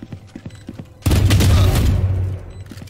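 A sudden loud burst of gunfire from the shooter game Valorant, with heavy rapid shots ringing out and decaying after a stretch of quieter footsteps and clicks.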